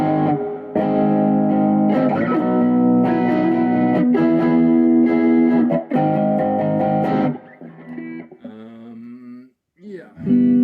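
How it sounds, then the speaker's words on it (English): A loud Squier Bullet Mustang electric guitar plays through a distortion pedal, heavily distorted chords and notes, sustained and saturated, ending with a few quieter bent notes. "just with sort of a distortion pedal, it would sound like this."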